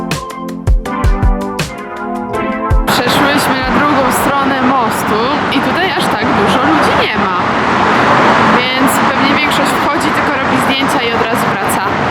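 Car traffic rolls across a wide New York bridge with three lanes for cars, a steady roadway roar under people talking and ambient city bustle, following a brief musical passage at the start.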